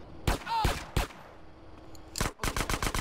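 Gunfire from the game GTA San Andreas: short sharp bursts of shots, a few spaced shots early, then a tight rapid string of reports near the end, loud and close with little else around them.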